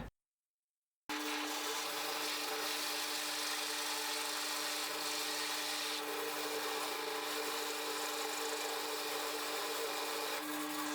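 A steady, whining electric drill boring a 1.5-inch hole through wood, continuous and close after a brief silence, with a constant hum and rasping texture.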